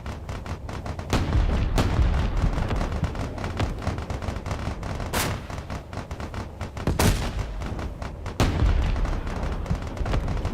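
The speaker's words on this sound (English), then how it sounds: "Got some artillery being used over there." Artillery fire in the game Space Engineers: repeated heavy booms and sharp cracks at irregular intervals over a constant low rumble, several blasts close and loud, others more distant.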